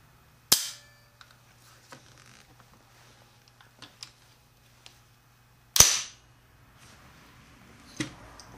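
Socom Gear Daniel Defense SOPMOD airsoft rifle cycling: two sharp, loud mechanical snaps a few seconds apart, each with a short metallic rattle, then a softer click near the end, with faint small clicks in between.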